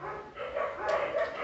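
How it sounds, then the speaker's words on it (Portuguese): Dogs barking at a nearby kennel next to a home, a continuous muffled chorus of overlapping barks and yips heard from a distance, with no speech over it. "Quando um começa a latir, o outro começa a latir, aí é um efeito em cadeia."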